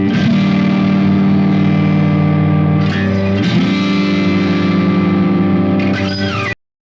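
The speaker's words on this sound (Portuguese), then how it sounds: "Crunch é uma distorção moderada que adiciona textura e calor ao som." Electric guitar through a moderate crunch distortion effect, sustained overdriven chords ringing loud and thick with a couple of chord changes before cutting off abruptly.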